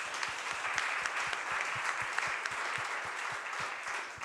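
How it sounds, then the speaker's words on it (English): A conference audience at a summit's opening plenary claps a round of applause for panelists, a steady dense patter of hands heard up close and continuing throughout, with no talking. "Let's give them a round of applause."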